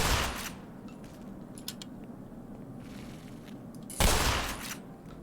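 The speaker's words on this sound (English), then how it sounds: "we'll use the shotgun against a couple of headcrabs." Shotgun blasts aimed at headcrabs in the video game Black Mesa: two loud, sharp booming shots several seconds apart, each trailing off with a brief echo, with smaller clicks between.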